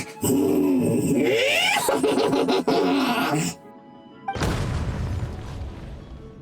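A loud burst of Genshin Impact game sound effects and clatter cuts to silence, then a deep booming explosion erupts and rumbles away.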